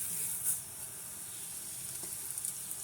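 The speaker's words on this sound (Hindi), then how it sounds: "बस अब उसको जस्ट 2 मिनट्स हम फ्राई करेंगे अपनी सिवैयों को।" Seviyan vermicelli frying in a pot, a steady soft sizzle with faint crackles, close and fairly quiet, running alone throughout.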